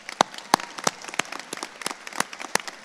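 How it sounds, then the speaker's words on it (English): Scattered, fairly faint handclaps from a small part of an audience at a university inauguration ceremony, with sharp individual claps spaced irregularly rather than a full ovation. "I actually want to do a quick round of applause"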